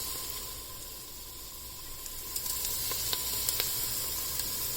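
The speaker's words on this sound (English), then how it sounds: "And now we just mix it all up." Dry spices sizzle steadily with sautéed onions in a pan for mutton soup, a close, even hiss with scattered crackles and small stirring scrapes that grow slightly busier toward the end.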